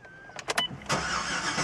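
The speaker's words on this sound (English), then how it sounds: "I turn on the car" A 2012 Cadillac CTS-V fires up: a few short cranking bursts give way to a loud, steady engine roar that carries on close to the microphone, with no talking.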